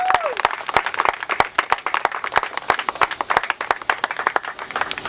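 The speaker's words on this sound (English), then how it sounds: "give them one more little round of applause. They deserve it." A crowd at an outdoor anti-bullying rally in front of a Board of Education claps in a steady round of applause, with distinct, fairly close claps carrying through the whole stretch.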